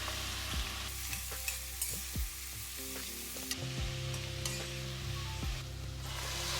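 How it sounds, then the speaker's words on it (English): Onions sauté in hot oil in a pan for tomato onion gravy, a soft steady sizzle broken by clinking spatula strokes against the pan. "heat oil in a pan, add onions and saute them well"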